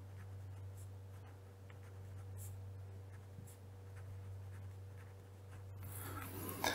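Chalk or marker writing on a board in a lecture hall on digital logic circuits, quiet repeated strokes over a steady low electrical hum, with a louder scrubbing burst near the end.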